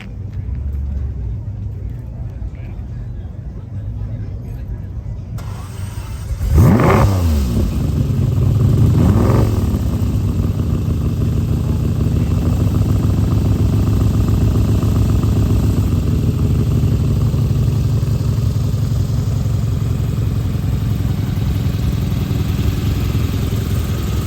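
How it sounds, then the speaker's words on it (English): A 1963 Ferrari 250 GTE V12 engine starts up with a sharp roar and a couple of revs, then settles into a steady, throaty idle that continues to the end. "Nothing like the V12 sound."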